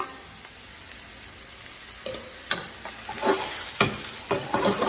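Pre-blanched shrimp sizzling and being tossed in a hot pan for fried rice, a steady frying hiss with scattered scraping and clattering stirs, growing busier toward the end.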